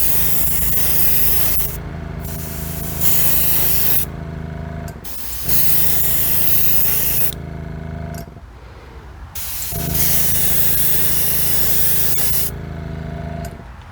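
A spray can lays a wet coat of paint on a custom model car body in long hissing bursts, separated by short pauses, close and steady with no talking.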